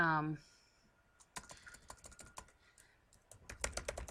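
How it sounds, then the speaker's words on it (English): Close typing on a computer keyboard, a quick irregular run of light key clicks that starts after a brief tone and grows a little busier toward the end, with no speech over it. "if I start to type, it's going to put it right there"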